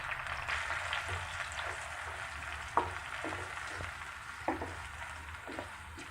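Chopped country tomatoes sizzle in about four teaspoons of sesame oil for a tomato pickle, a steady close crackle with a few sharp pops and faint stirring clicks, and no voices.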